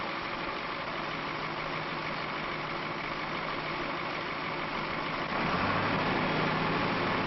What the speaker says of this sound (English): While he waits for the engine to warm